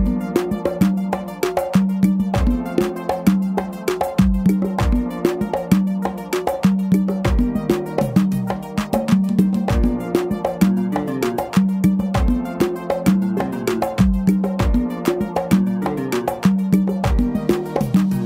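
Congas play an afro beat along with a backing track: steady, dense hand strokes with sharp slaps and deep open tones repeating in a driving groove, loud and close throughout.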